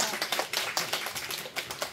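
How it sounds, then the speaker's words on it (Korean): Scattered audience clapping at a Christian summer youth retreat lecture, a loose patter of hand claps at moderate distance, steady over two seconds with no talk. "저도 박수 한번 주세요."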